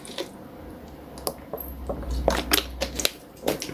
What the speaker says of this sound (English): I'm just gonna have some water